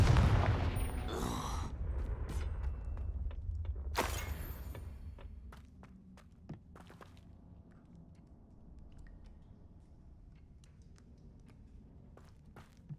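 Blasting-spell explosions from Hogwarts Legacy: a loud booming burst at the start and another sharp blast around four seconds, followed by scattered fainter impacts and crackles over a low rumbling game background.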